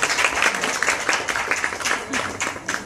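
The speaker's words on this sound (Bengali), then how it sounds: "এই মুহূর্তে একটা জোরে করতালি প্রত্যাশা করছি।" Audience applause at a live celebrity event in Bangladesh marking the signing of a first export order, a dense, steady wash of clapping from a crowd with occasional sharper claps, moderately loud and sustained throughout.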